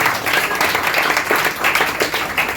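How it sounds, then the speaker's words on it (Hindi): A hall audience gives loud, steady applause honouring teachers at a Teachers' Day gathering, dense clapping sustained throughout without a break. "जोरदार ताली से आप लोगों को अभिनंदन।"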